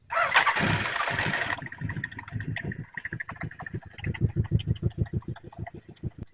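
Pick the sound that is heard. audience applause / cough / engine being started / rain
engine being started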